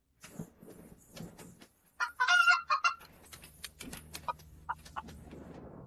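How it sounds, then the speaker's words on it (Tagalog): A chicken gives a run of squawks and clucks, with one loud, harsh burst in the middle followed by scattered shorter calls over a low background hum. No one speaks. "Hindi ba't ito yung manok na nanunuka?"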